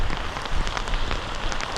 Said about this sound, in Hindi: बारिश देखिए इतनी ज़्यादा हो रही है